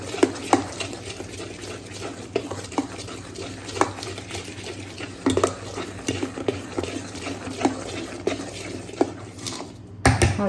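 A spoon works turmeric through vatidal khaman batter in a continuous wet scrape, dotted with irregular taps on the bowl that carry on for several seconds before a brief pause near the end; no talking.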